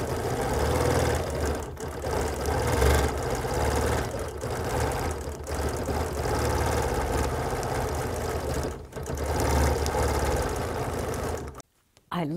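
Sewing machine stitching a continuous row of quilting across a quilt, with a steady loud mechanical whir broken by short pauses and a clunk near the end, and a voice talking over it.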